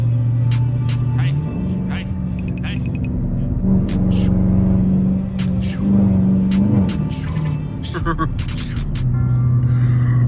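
A Dodge Challenger R/T V8 drives in traffic, its deep engine rumble droning loud and close throughout, rising and falling with throttle while people talk over it inside the car.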